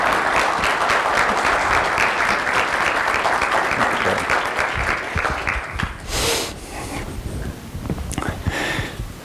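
Sustained audience applause welcoming historian John Lewis Gaddis at the Strauss Center, dense and steady clapping from a full room that thins out over the last few seconds.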